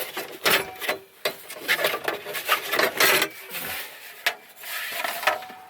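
Plastic trim panel on a 2007-2013 Chevrolet Silverado interior being pried, pulled and popped free, a run of close scraping, rubbing and sharp clicking snaps with no talking.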